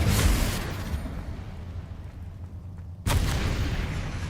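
Confringo fire spell blasting in Hogwarts Legacy: a loud, booming explosion that rumbles and decays over about three seconds, then a second sharp blast hits and roars on with heavy low rumble.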